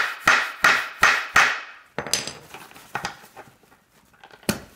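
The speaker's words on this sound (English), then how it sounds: "then you're going to take your hammer and you're just going to punch it down nice and hard." A hammer strikes a grommet setting tool to punch a grommet into an ice shanty skirt, four loud evenly spaced blows followed by several lighter, quicker taps and a final sharp hit, close and alone.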